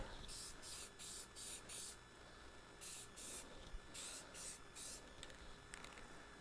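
A spray nozzle lays down paint in short hissing bursts, about ten quick sprays in two groups separated by brief pauses, faint and close.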